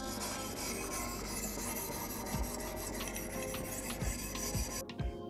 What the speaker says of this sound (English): In this case, we'll be using a 2014 grit stone, and we'll raise the angle by about 4 to 5 clicks. And we continue sharpening.